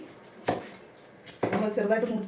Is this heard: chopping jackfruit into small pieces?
yes